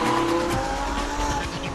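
A Lamborghini Huracan LP580-2 driven flat out on a racetrack, its engine roaring loud and close with tyres squealing through a skid, one continuous burst of sound and no voices.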